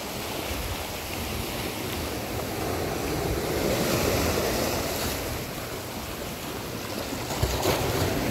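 Waves wash steadily onto the beach at Clear Water Bay, a continuous broad roar of surf with gentle swells, mixed with light wind buffeting the microphone and no voices.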